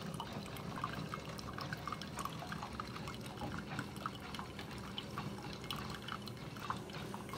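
A Hamilton Beach FlexBrew K-cup coffee maker brews: steady trickling and dripping of water into a cup, a faint continuous liquid stream with soft splashes, heard close with a low background hum.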